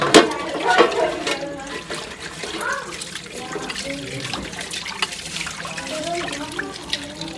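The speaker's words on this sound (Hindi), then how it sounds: "इसमें आप डालेंगे ठंडा पानी, तो ये सब ठंडा हो जाएगा।" Cold water poured into a cooking pot, splashing and gurgling unevenly with a burst at the start, mixed with kitchen clatter and talking throughout.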